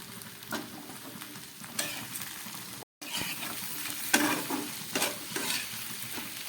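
Tomato, spices and fried potatoes sautéing in a pan for aloo dum, with repeated scraping stirs over a soft sizzle, close by, broken by a brief silent gap midway.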